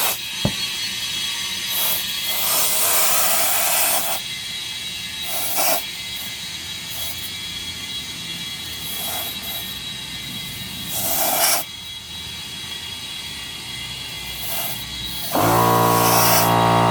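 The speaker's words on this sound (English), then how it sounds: "now I'm just gonna put some air on here" Compressed air hisses into a tire after a TPMS sensor swap on a bead buster, coming in close, loud bursts with short pauses between them and no talking.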